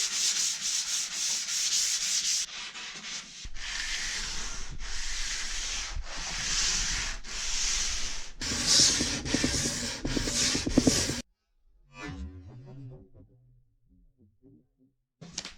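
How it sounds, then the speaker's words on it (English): Sanding clear coat on an MDF cabinet, steady rubbing strokes in repeated bursts for about eleven seconds, close and fairly loud, then ending into quieter scattered handling sounds. "I'm gonna sand it down to make the edges really smooth and even"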